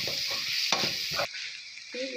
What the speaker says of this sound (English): You have to stir well.